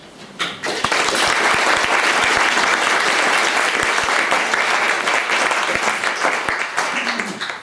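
Loud, dense audience applause at a Royal Society lecture greets Sir Arnold Wolfendale, starting abruptly and sustained evenly for several seconds before fading out at the end.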